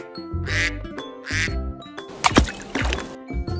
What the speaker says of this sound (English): duck